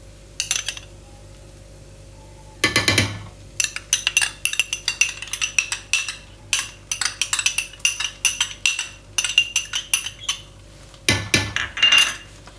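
Cooked chicken being stirred together with ketchup in a pan, giving a steady run of close metallic scrapes and clinks from a utensil against cookware, with a couple of louder clattering bursts and no talking.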